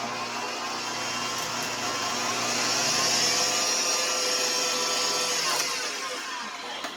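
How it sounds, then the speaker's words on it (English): An electric mixer whirs steadily through cake batter for a peanut butter cake, a continuous close motor drone that swells slightly midway and eases off near the end, with no talking. "I'm going to mix that just a second."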